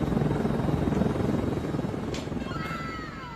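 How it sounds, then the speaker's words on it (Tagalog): A helicopter throbs with a fast, steady rotor chop, loud and near, then fades slightly toward the end as a few brief higher tones cut in. "Akala ko nasa helicopter siya."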